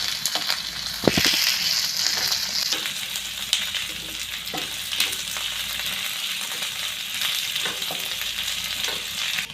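Two sliced onions sizzle steadily in a hot pan as they are sautéed, a loud continuous frying hiss with scattered spatula scrapes and clatters throughout, and nobody speaking.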